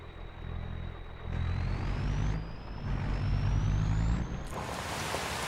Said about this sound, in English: The truck actually sounds pretty good, I'm not gonna lie.